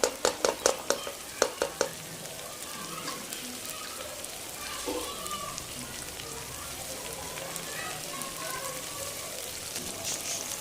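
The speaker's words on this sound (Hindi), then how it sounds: "खूब अच्छी तरह लोबिया को मसालों में फ्राई करेंगे" Black-eyed beans (lobia) fry with spices and vinegar in oil, opening with a few quick taps of a spoon, then a soft, even, rain-like sizzle that runs on quietly.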